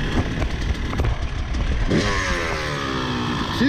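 A two-stroke dirt bike engine at a dirt jump contest runs steadily and loudly throughout, with a buzzing, revving tone that rises in pitch near the end, like the bike accelerating away.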